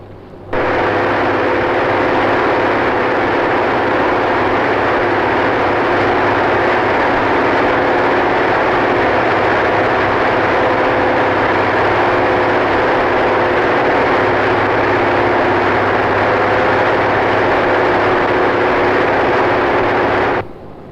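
Aircraft engines drone in flight, a loud, steady, continuous hum with low tonal bands that hold unchanged for about twenty seconds, with no voices.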